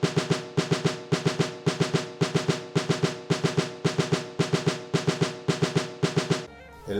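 Carnavalito rhythm in a 4-2-2 micro-rhythm pattern, a long stroke followed by two short ones, repeating evenly and loudly on bright percussive strokes, alone with no voices.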